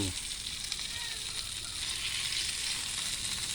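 Fish sizzling as it fries in a pan, with a steady broadband crackle holding at an even level throughout.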